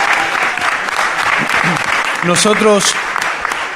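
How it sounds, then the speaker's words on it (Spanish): Audience applause at a panel discussion on prices, a steady wash of clapping throughout with a voice speaking over it partway through. "les pido un aplauso en agradecimiento a Ricardo Rojo y a Daniel Nasif"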